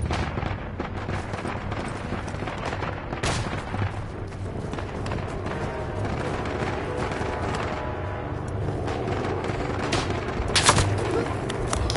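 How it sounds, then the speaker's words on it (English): Artillery bombardment and gunfire on the Italian front in the World War I game Isonzo, a steady rumble of distant blasts and rifle shots, with sharp cracks standing out and a louder burst near the end. "We need a great bombardment here. Use the artillery"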